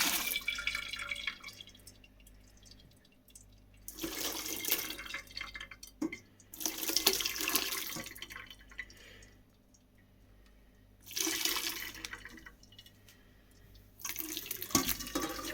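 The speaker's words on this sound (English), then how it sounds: "take this across to the sink and drain it in the colander" Chicken soup made from leftover roast chicken drains through a colander at a kitchen sink, with liquid pouring and splashing in several separate bursts and softer dripping in the quiet gaps between them.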